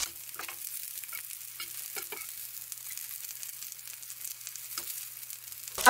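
Korean oyster pancakes fry over low heat in a pan with a soft, steady sizzle, broken by a few light clicks of a utensil turning them, close and without talk.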